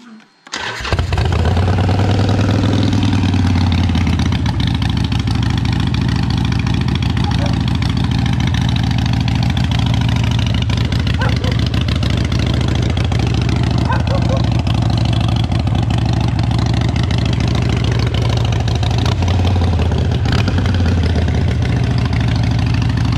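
A motorcycle engine cranks and catches, then settles into a loud, steady, close idle that runs for around twenty seconds with slight wavering.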